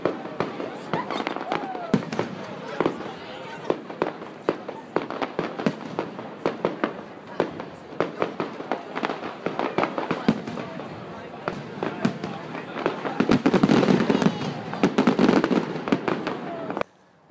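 Fireworks explode at the Queen's Boathouse in Cambridge in a dense, continuous barrage of crackles and pops, with voices in the background and a heavier burst near the end.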